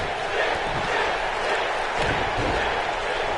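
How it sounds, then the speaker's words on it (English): A large arena crowd in the WWE 2K20 wrestling video game keeps up a dense, continuous roar of cheering and chanting, loud and steady throughout with no clear break. "this crowd seems like they want Sting"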